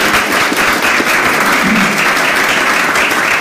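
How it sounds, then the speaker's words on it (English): Audience applause at an innovation hubs presentation, a steady wash of many hands clapping, loud and continuous throughout with no break. "A round of applause,"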